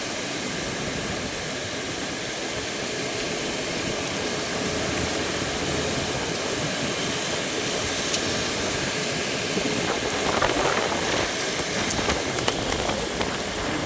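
Steady, heavy tropical rain pours down in a dense, unbroken roar that fills the whole stretch without letup.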